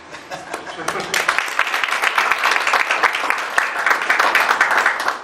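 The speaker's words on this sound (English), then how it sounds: "can we give the CEO a good round of applause?" Audience applause at an annual .KE domain registrar awards event: a dense, loud burst of clapping from a crowd that starts after a second and keeps going steadily to the end, with faint chuckles mixed in.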